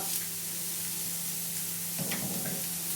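Chopped vegetables and curry leaves sauté in a pan for a horsegram masala, giving a steady, low sizzle with a brief scraping stir about two-thirds through, close and quiet with no voices.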